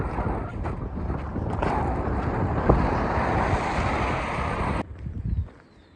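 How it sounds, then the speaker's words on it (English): Strong wind buffets the microphone on a cold morning along the Allegheny Trail near Thomas, a loud continuous roaring gust that cuts off abruptly near the end, leaving quieter rustling; no one speaks. "it's a windy, cold morning"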